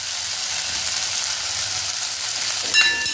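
Flax flower chutney stirred in a pan over very low gas, with a quiet, steady sizzle throughout and a brief clatter of the utensil near the end.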